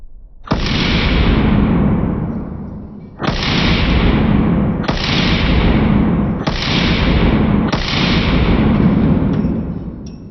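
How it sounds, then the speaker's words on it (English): Five loud, close pistol shots from a Staccato XC firing Badlands Jello rounds, spaced a second or two apart, each a sharp report that rings out in a long, decaying tail. "now we're gonna do 5 slow motion with the Staccato XC Badlands Jello shots"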